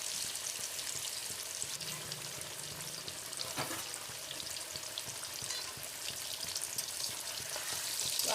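Potato pieces fry in a pan for a chicken kosha curry, giving a soft, steady sizzling hiss with light crackles at low volume and occasional stirring.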